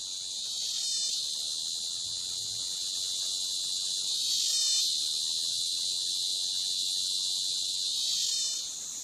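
Cicada calling in hot, dry, prickly scrubland, a loud continuous buzzing drone with a rhythmic pulsing swell that recurs every few seconds, with no other sounds.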